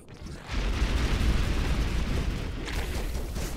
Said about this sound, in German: Die explodieren richtig hart.